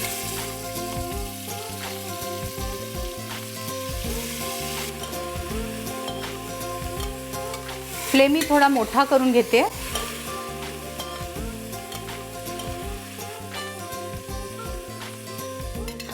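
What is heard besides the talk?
marinated chicken sizzling and being stir-fried in a pressure cooker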